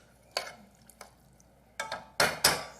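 A utensil stirs garlic in a cooking pot, making a few sparse scraping and clinking strokes, close and moderately loud, with the last two strokes strongest and no talking.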